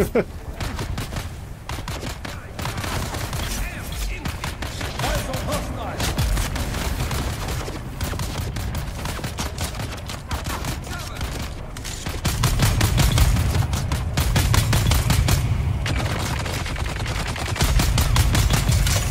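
Rapid, sustained minigun fire rattles in a shooter video game, dense automatic bursts running throughout and growing heavier partway through, loud and close.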